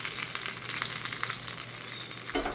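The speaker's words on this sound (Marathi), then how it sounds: "ह्याच्यामध्ये तडका टाकायचा आहे." Tadka of curry leaves and red chillies crackling in well-heated oil for dal khichdi, a dense, steady close sizzle with spitting pops throughout, strong and continuous with no talk.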